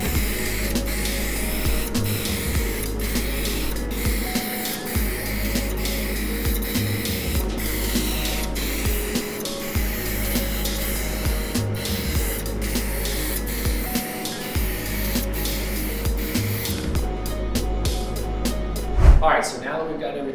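A spray gun laying down a white base coat on a part for hydrographic dipping, a steady broadband hiss running almost continuously, with people talking alongside and a short burst of handling noise near the end.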